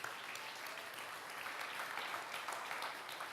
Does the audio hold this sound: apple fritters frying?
no